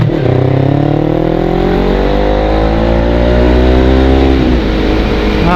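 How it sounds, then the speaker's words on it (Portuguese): A carbureted Honda CB 500 motorcycle with a freshly installed Coyote double polished exhaust revs loudly and close, its engine note rising and falling steadily across the whole stretch with no talk over it. "Aí, vamos escutar o barulhinho agora."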